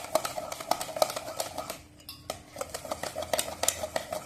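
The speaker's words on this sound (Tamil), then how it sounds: "நல்லா கிண்டிக்கலாம்." Six beaten eggs are stirred in a metal pot, the utensil clinking and scraping against the sides in quick, uneven strokes, close and fairly quiet, with a brief pause midway.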